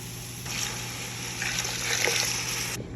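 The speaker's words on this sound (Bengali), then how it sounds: "চাউলটা ভাজা শেষ হয়ে গেছে এখন দিয়ে দিব পানি" Water is poured into a pot of fried rice for hilsa pulao, a continuous splashing pour lasting about two seconds that starts and stops abruptly over a quiet kitchen background.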